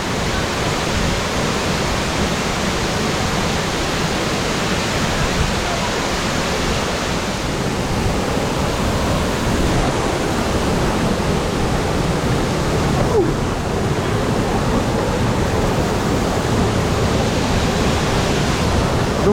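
A waterfall at Ayatana Resort in Coorg, Karnataka, makes a steady, loud, unbroken roar of rushing water throughout, with no voices.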